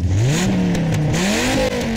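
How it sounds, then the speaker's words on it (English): The 8-liter engine of a 2000 Dodge Viper RT/10 revs loud and close, its deep tone rising, dipping and climbing again through a throaty sweep with no one talking. "this 8-liter engine is exceptionally loud"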